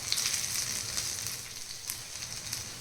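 Crispy veg cutlets shallow-fry in a pan with a little oil, making a steady, close hiss and sizzle with faint crackles throughout.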